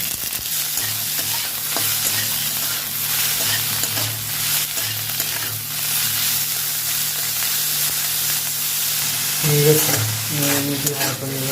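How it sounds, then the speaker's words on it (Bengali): Apple snails fry in lightly heated oil in a wok, making a loud, continuous sizzle and spatter with stirring clatter, close up and without talk. "গেরিটা আমি হালকা তেলে নিয়ে নেবো।"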